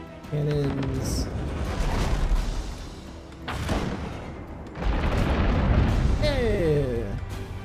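Ship cannons fire in naval combat in the video game Abandon Ship, heavy booms and bursts over a layered battle soundscape, with someone talking throughout.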